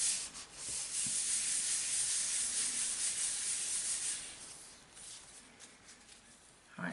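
A sponge rubbed over a painted background of a mermaid picture, giving a steady, close, broad scratchy hiss that fades after a few seconds, ending with a short scrape.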